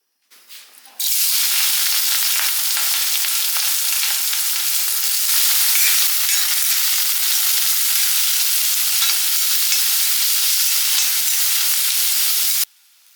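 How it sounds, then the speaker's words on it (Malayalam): Onions sauté in coconut oil in a pan, a loud, steady sizzle and hiss that bursts in after a moment of quiet and holds evenly close by until it cuts off abruptly at the end. "ഈ ചട്ടിയിൽ നമുക്ക് വെളിച്ചെണ്ണ ഒഴിച്ച് ഉള്ളി വഴക്കിയെടുത്ത്"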